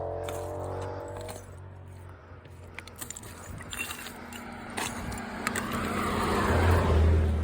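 Cars pass along a road beside a hiking trail, a motor hum swelling and fading with a louder vehicle approaching at the end, mixed with faint rustling and clinks nearby.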